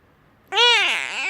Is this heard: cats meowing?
yes